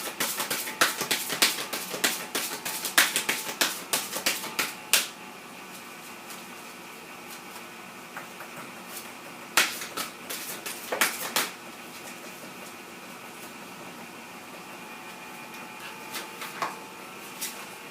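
Tarot cards being shuffled and drawn, a run of quick papery flicks and riffles, then a long quiet stretch broken by a few more brief card snaps and rustles, close and fairly soft.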